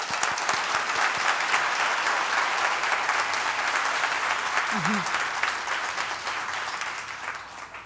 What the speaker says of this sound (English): I just want to give him a round of applause as well.